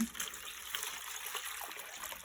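Water poured in a thin, faint, steady trickle for a couple of seconds while raising broiler chickens.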